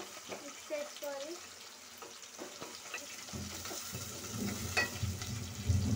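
Onions frying in a pan while being stirred, a soft sizzle with scraping strokes that grows louder toward the end, with someone talking faintly at the start.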